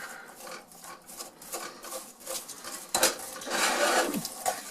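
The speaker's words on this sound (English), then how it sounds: "I'm going to turn it up a little bit and give it some stir here" Ingredients stirred in a cooking pot over the stove for a Star Wars Galaxy's Edge cookbook recipe, with repeated scraping and clinking of a utensil against the pot, growing busier toward the end.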